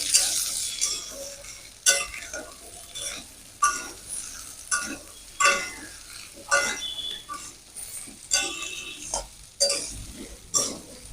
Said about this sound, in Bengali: একটু নেড়ে চেড়ে মিশিয়ে নিলাম